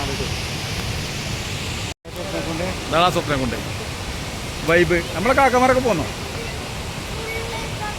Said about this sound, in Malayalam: ആതിരപ്പള്ളി വെള്ളച്ചാട്ടത്തിൻ്റെ ചുവടെത്തിയിട്ടുണ്ട്